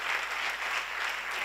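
Steady audience applause at a summer-course lecture, a dense continuous wash of many hands clapping for about a second and a half with no voices over it.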